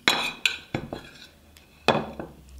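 Utensil clinks and scrapes against a bowl while stirring a chickpea flour sauce with herbs, capers and pickles; a few separate sharp taps and stirs spaced through the clip, close and fairly quiet, with no talking.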